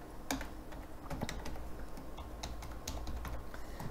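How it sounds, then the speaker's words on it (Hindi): Rapid, irregular clicking of keys on a computer keyboard as a Wi-Fi password is entered, close and steady throughout with no talk. "हम यहाँ पर पासवर्ड को एंटर करते हैं"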